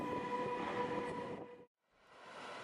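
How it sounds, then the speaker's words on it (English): A red passenger train rolls past alongside a track where diggers are working, a loud steady rumble of wheels and carriages that cuts off abruptly, then a quieter rumble returns, with no voices. "Here comes a red passenger train."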